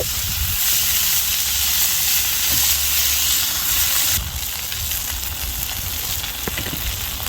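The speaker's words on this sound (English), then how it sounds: "I've got this little 10-inch lodge heated up. I'm going to put a liberal amount of butter down in here." Butter melting and sizzling in a preheated 10-inch Lodge cast iron pan: a steady, loud frying hiss that drops slightly in level partway through and carries on alone.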